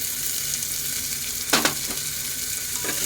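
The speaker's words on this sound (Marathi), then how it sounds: "हा बारीक चिरलेला कांदा चांगला परतून घ्यायचा." Finely chopped onion sizzles steadily in hot oil inside a pressure cooker, a continuous close frying hiss with a couple of brief scraping stirs in the middle.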